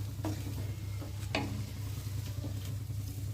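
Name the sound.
stirring broccoli fry with cornflour in a pan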